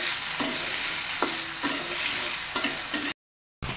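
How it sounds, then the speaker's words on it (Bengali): Potatoes and carrots frying in a pan with salt and turmeric give a loud, continuous sizzle and hiss, with a few spatula scrapes. It stops abruptly near the end, then briefly resumes. "আলু আর গাজরগুলো ভাজা হয়ে গেছে"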